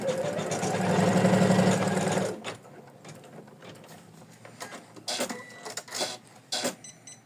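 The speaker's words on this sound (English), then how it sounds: "we are stitching the outlines for our buttons" An embroidery machine stitches button outlines for an in-the-hoop kitty project, giving a dense, steady buzzing run for about two seconds before stopping, followed by scattered clicks and handling noises.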